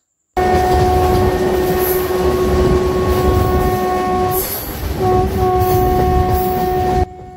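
The Ranchi–Howrah Intercity Express (18628) runs near Bishnupur station in Bankura with a loud, continuous rail rumble and a long sustained horn blast held through most of the stretch, briefly dipping before sounding again.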